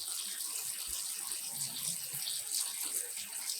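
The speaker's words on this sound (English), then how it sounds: "I just do one more rinsing, even though it's technically not necessary." Dyed yarn is rinsed under a running tap with a steady, close hiss of flowing water and occasional splashes, and no one speaks.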